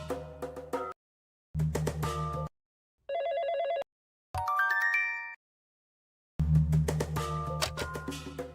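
A telephone rings in several separate bursts broken by short silences, a bright electronic ringtone with a changing pattern, moderately loud and alone without talk.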